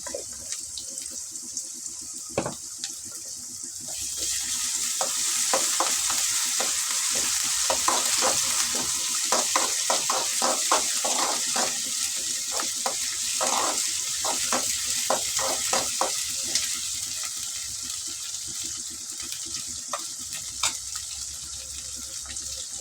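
Ginger garlic paste for meal maker poriyal drops into a hot pan and breaks into a loud steady sizzle, with quick spatula taps and scrapes stirring through it before the frying settles to a softer crackle.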